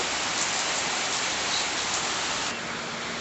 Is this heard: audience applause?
no